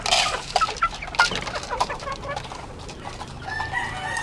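Pet Kelso gamefowl chickens clucking close by, a busy run of short overlapping clucks and calls with a few sharper squawks, no talking.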